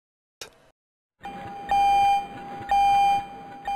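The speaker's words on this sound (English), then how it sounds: "the signal bell that indicates the crane is in motion" A crane's signal bell warning that the crane is in motion rings in repeated sustained electronic tones, each lasting about half a second, separated by short gaps, after a brief click and a moment of silence.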